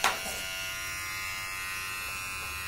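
Wmark NG-115 hair clipper running close up, a smooth steady electric buzz with a bright hum that starts with a short click and holds evenly for a few seconds.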